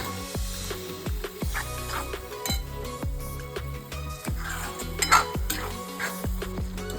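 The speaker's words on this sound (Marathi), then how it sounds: "आता यात आपण वाटण घालू। वाटण घालून भाजून घेऊया।" Ground masala paste being stirred and roasted in a pan for a shev bhaji, with a spoon clinking and scraping against the pan in a steady rhythm over soft background tones and faint sizzling.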